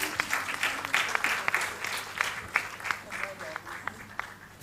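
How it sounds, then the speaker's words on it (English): At an awards summit a crowd keeps clapping in a sustained, even wash of applause from many hands, moderately distant, with individual sharp claps popping out of the patter. "can we please continue clapping?"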